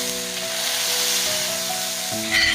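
Hello Kitty-stamped meat patties frying in a pan give a steady, close crackling sizzle over a faint constant hum, with no one speaking.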